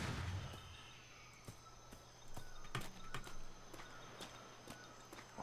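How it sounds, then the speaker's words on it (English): Hooves clip-clop in a slow walking rhythm at moderate distance, a video-game horse moving over ambient background noise with faint bird-like chirps and no talking. "Our horse is here, too."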